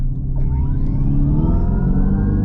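A 2025 Dodge Charger Daytona electric car launching hard in drag strip mode, heard from inside as a loud, steady low rumble with a rising whine that climbs in pitch as it accelerates, no voices.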